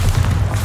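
Bombarda blasting spell going off in Hogwarts Legacy, a short dense low boom with rumbling body, loud and close, lasting under a second with no pause.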